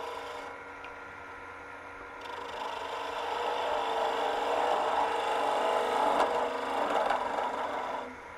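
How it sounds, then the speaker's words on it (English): Spindle gouge cutting a tailstock handle on a mini or midi wood lathe, giving a steady scraping, rubbing hiss that grows slightly louder midway and fades at the end, with no talking. "let's just grab our 3/8 spindle gouge"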